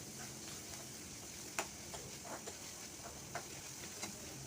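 Onions, ginger, garlic and green chili fry in a little oil in a pan, giving a faint, steady sizzle broken by a few soft pops and ticks.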